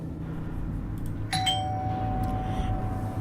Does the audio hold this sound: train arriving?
no